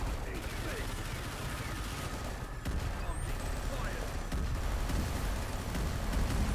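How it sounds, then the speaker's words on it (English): The Lance rifle in ANVIL: Vault Breakers fires in a dense, continuous stream of rapid shots, forming a loud, unbroken crackling wall of gunfire over a rumbling background. "We got a Lance rifle, I think, is what it's called. Yeah, Lance rifle. I'll use it here."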